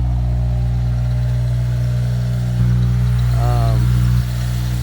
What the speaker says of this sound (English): So sounds pretty loud. It's got a full exhaust on here.